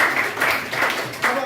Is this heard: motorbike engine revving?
no